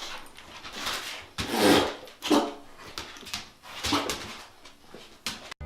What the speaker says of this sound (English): it was actually comical to watch the dogs and cats mess with Samantha.